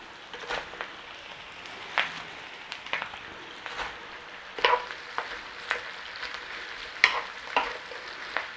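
Cabbage frying in a pan with onion and garlic, a steady crackling sizzle broken by sharp clinks and scrapes as it is stirred, close and with no one talking.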